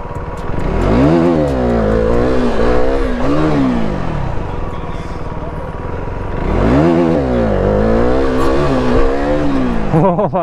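A Yamaha R15 motorcycle revs hard on an off-road track, its engine rising and falling in two loud surging bursts with a steady roar between them.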